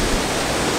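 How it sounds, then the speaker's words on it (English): Waterfall cascade below a dam at sunset, heard as a dense, steady roar of rushing water filling the whole sound, loud and unbroken with no voices. "the big cascade"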